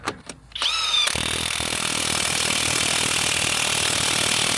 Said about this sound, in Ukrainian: Закручую вам назад, він файно теж закручує.